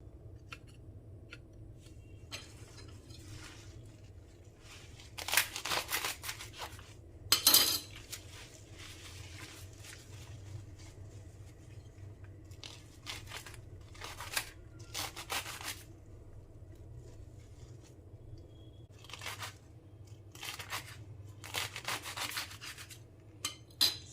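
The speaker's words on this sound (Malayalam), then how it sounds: "ഇതിലെ തണ്ട് ഞാൻ കുറച്ച് കട്ട് ചെയ്ത് കളയും" A knife trims the stems from a bunch of spinach, giving scattered crisp cuts and rustling rubs on a board, some bursts louder than others, close by over a low steady hum.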